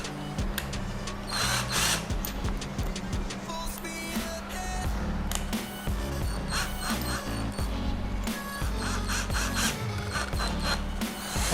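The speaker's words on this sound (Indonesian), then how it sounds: "Mata bor yang ini kita pasang." A small drill bit is fitted into the chuck of a Kova 20V cordless drill, giving close, repeated ratcheting clicks and rubbing scrapes in an uneven rhythm, with no talking.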